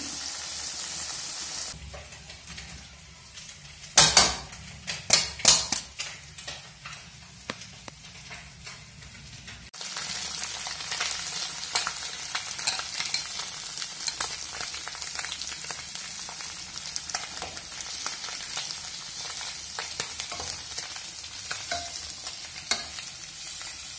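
Small fish frying with bamboo shoots in a pan, a steady bright sizzle with bursts of stirring clatter early on, then a denser, louder crackle that continues to the end; no talking.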